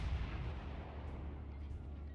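Naval guns firing in World of Warships, heard as a deep, rumbling boom that fills the short moment and fades into a sustained low roar, loud and close.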